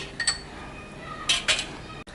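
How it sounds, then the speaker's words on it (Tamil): A spoon stirs thickening kulfi milk mixture in a pan, giving a few brief metallic clinks and scrapes against the pan over a quiet background, with no voices. "சேர்த்துட்டு பொறுமையாக நல்லா ஒன்றா மிக்ஸ் ஆகிற வரைக்கும் கிண்டி விட்டுட்டே இருப்போம்."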